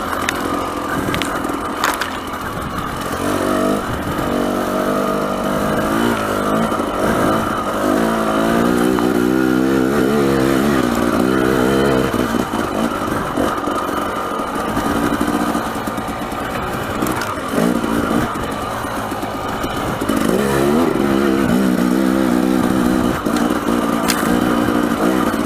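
A dirt bike ridden in third gear on a desert wash in Arizona, the engine droning loud and close with rising and falling revs and wind buffeting throughout, no talk.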